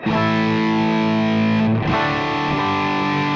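Distorted electric guitar run through a Fractal Audio Axe-Fx II, a dense sustained chord ringing loud and alone, briefly choked around the middle before ringing out again with amp-like room character.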